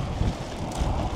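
A strong crosswind on a coastal cycling course in Çeşme buffets the microphone as a loud, continuous low rumble with gusty swells and no speech.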